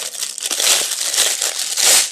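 Plastic packaging crinkling and crumpling continuously as it is unwrapped from pink and violet pencil-shaped pots, close and fairly loud with bursts of rustle, no talk.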